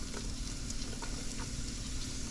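Red onions and scallion sautéing in heated butter and oil with thyme, a continuous low sizzle with faint stirring taps over a steady hum, fairly quiet and without talk.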